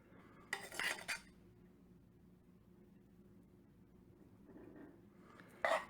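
A metal spoon scrapes and clinks against a plate while serving cilantro lime rice, in two brief clusters separated by a quiet pause.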